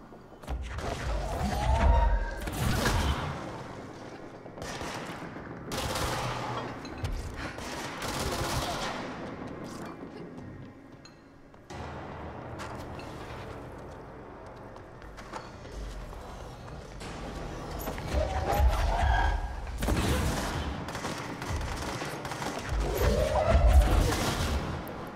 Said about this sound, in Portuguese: Esse tiro múltiplo é roubado, cara.